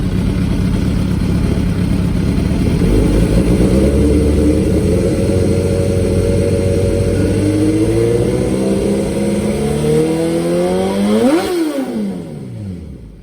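A 2004 Suzuki GSX-R 1000 motorcycle engine, in clean running condition, drones loudly up close, swells in a long rising rev, then drops sharply back down toward idle.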